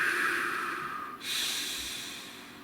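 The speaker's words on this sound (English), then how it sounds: "Nice deep breath." A single long, deep breath is drawn in close to the microphone, then slowly released in a steady exhale.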